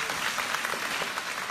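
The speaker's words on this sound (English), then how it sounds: "he was applauded when he talked about bringing that lawsuit." Applause from a sparse crowd at a Moore campaign event, a steady wash of clapping that holds at an even level throughout, moderately close, with no voices over it.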